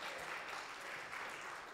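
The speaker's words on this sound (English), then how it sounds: "How about a round of applause for Joanne and the choir?" A church congregation applauds a choir and its leader during a Sunday service, a short steady wash of clapping heard faintly from a distance.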